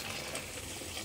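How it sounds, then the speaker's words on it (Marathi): Water poured from a vessel into a freshly mixed batter for dhondas (khaskhasa), a steady soft splashing rush lasting about a second, close and fairly quiet with no talk. "घाल जरा पाणी."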